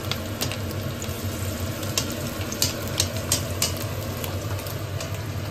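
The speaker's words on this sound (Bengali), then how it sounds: "আর এদিকে এখন বড়া ভাজা হচ্ছে" Fritters coated in gram flour, rice flour and a little wheat flour fry in hot oil, a steady soft sizzle with scattered small pops and crackles close by.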